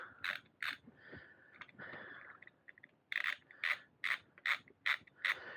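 Self-extracting crank bolt being driven out of a SRAM mountain bike crank, giving a series of close, sharp ratcheting clicks in short bursts, with a quieter scraping stretch between them.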